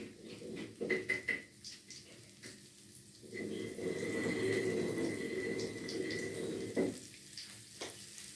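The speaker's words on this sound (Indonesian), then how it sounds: "Kita masukkan ketumbar, kunyit sama bawang putih tadi ya. Kita tumis dulu." Coriander, turmeric and garlic sautéing in a pan for mangut ikan kuwe, a steady close sizzle that swells midway, broken by brief clinks and scrapes of utensils against the pan, no talking.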